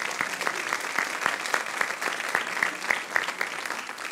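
A church congregation claps together in applause, a steady, moderately loud stream of many hands with some rhythmic emphasis, heard from within the room.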